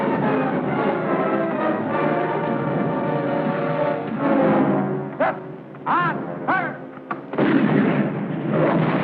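Artillery fire from a field gun in a 1951 Civil War film, heavy booming shots over a dense musical score, with several sharp bursts standing out near the middle and a loud swell toward the end.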